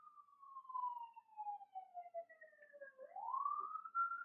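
Police siren wails faintly in the distance on a Los Angeles street, its pitch sweeping down slowly and then rising again, heard alone with no talking.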